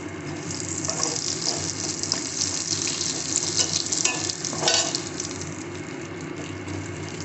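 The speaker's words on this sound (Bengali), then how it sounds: "কড়াইতে আবার একটু তেল দিয়ে দিয়েছি, এবার দিয়ে দিচ্ছি গরম মশলা, জিরে, তেজপাতা ফোড়ন" Whole garam masala, cumin seeds and bay leaves sizzle steadily in hot oil in a wok, a continuous close crackling hiss with a few louder spits near the middle and no talk.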